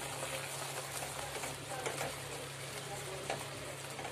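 Spice paste frying in oil while being stirred in a pan for a Bengali fish dish, a steady dense sizzle with soft scraping strokes of the spatula running through it.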